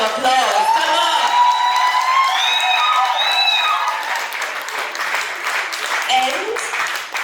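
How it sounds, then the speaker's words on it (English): Louder audience applause mixed with cheering and whoops at a live cooking show, a thick wash of clapping with voices calling out over it, staying strong before easing slightly toward the end. "Oh, a better round of applause."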